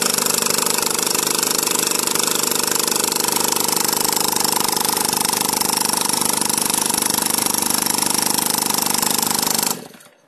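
A two-cycle steam engine running on compressed air spins at about 600 RPM, making a loud, steady, rapid chuffing rumble that continues unbroken for around ten seconds before cutting off abruptly.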